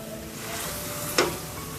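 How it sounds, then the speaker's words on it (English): Masala, meat and onions stirred in a sizzling pot, a steady low fry hiss with one quick scraping stir near the end, close and fairly quiet, no talking. "then we'll give it a very good stir once again"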